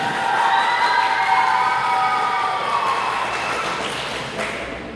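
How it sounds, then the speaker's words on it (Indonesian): A large crowd cheers and shouts loudly for the candidates at a pesantren student leadership election, a dense sustained roar with high whoops and whistles that slowly fades. "Tepuk tangan."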